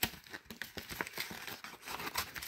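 A mail envelope being torn open, with quiet, close crinkling and ripping paper in short irregular bursts.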